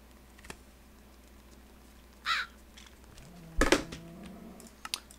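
A bird in Minecraft gives two short cawing calls, separated by a second or so, against a quiet background with faint clicks.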